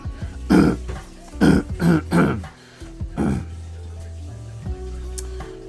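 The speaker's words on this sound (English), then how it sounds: "I sound like Jerome Powell just clearing his throat." A person clears their throat several times in short, rough bursts, close to the mic, followed by a quieter stretch with low background hum.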